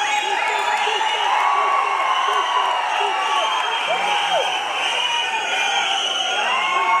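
A large crowd at a public felicitation event in Karnataka claps and cheers loudly and continuously, with whoops and shouting voices mixed into the steady roar.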